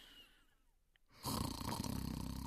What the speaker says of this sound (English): He is snoring in his bedroom.